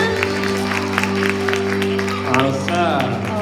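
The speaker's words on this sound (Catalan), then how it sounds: "Mira, un aplaudiment!" A children's theatre audience at a show about a vegetarian wolf breaks into scattered applause with sharp individual claps, mixed with steady background music and a performer's voice.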